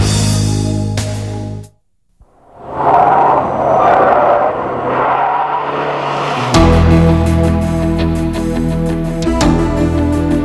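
A 2000 Neon's engine strains at highway speed around 3300 RPM, a loud sustained drone with road and wind noise, broken by a brief dropout before the roar returns.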